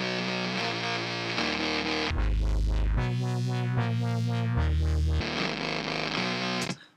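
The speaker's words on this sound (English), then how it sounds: "So it makes this fantastic distortion" A heavily distorted synth-bass passage through an Ableton distortion effect, buzzing and gritty, switching between thick saturated chords for several seconds before cutting off abruptly at the end.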